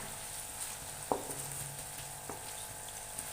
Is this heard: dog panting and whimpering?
no